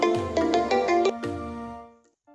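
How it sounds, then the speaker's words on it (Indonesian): Mobile phone ringtone from an incoming call, a bright melodic electronic tune of several quick repeated notes that sounds twice and then fades, ringing near and loud during a car headlight demonstration. "Mohon maaf ya, ini ada handphone masuk."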